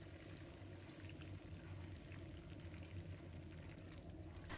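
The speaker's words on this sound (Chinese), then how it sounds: "加入半勺的白醋。" White vinegar poured into a bubbling sugar syrup in a pan for candied sweet potatoes, giving a steady, close liquid pour over a constant sizzling hiss with no pauses.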